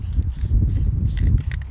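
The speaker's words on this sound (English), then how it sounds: "Every time Jon Hancock pushes on the knob of his spray can, he doesn't just release paint." Short hissing bursts from a spray paint can, several quick pulses in a row at close range, with no talking.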